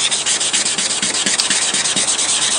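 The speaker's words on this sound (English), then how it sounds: "and start sanding." Rapid rhythmic rubbing of wet sandpaper against a hard plastic car headlight, close and loud, strokes repeating steadily back and forth.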